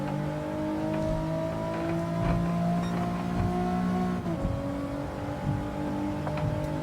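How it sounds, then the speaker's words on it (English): A race car in the Gran Turismo 7 video game drones steadily at high revs, its engine pitch dipping midway as tyres squeal faintly under the continuous engine tone. "Tyres squealing."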